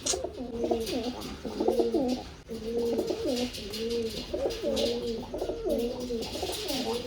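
Pigeons coo in repeated low, throaty phrases close by, one call following another with short pauses in between.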